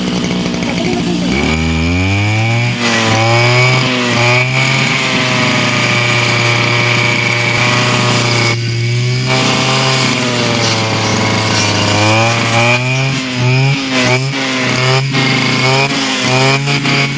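A chainsaw cuts around a tree in a village farm setting, its engine snarling loud and steady throughout with pitch rising and falling as the cut loads and eases, briefly dipping near the middle.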